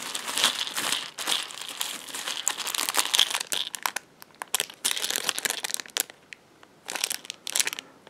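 Plastic packaging of a parcel from China crinkles and crackles as it is opened, in close, irregular bursts with short pauses, no talking.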